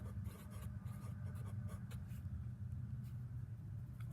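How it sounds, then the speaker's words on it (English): Faint scratching of a marker or chalk on a board runs steadily through a short stretch as the words tangent slope are written out during a calculus review, quiet and continuous with no talking. "So I'm going to write up here tangent slope."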